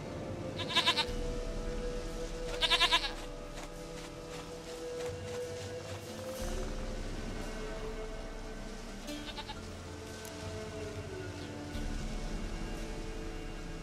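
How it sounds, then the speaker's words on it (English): Goat bleats in The Witcher 3 video game: two short, loud bleating bursts early on and a fainter one later, set against a steady ambient game soundscape with low rumbling. "Goat of mine, dearest, sweetest goat."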